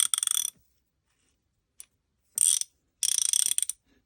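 A secondhand hand ratchet with a damaged handle clicks in quick bursts, close and crisp, three short runs of rapid pawl ticks separated by silence with one lone click in between.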